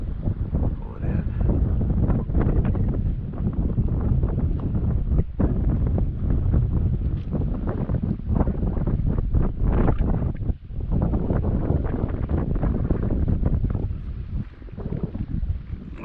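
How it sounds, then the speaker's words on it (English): Steady wind roaring against the microphone outdoors while a DragonForce 65 model sailboat is sailed in light winds, a constant blustery rush with brief dips. "Now the wind's kind of blowing right off my left ear."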